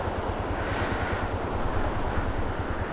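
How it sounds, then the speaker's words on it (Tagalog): Strong sea waves at the seaside, a loud continuous rumbling wash of surf mixed with heavy wind buffeting the microphone, with no voices. "malakas yung alon ngayon"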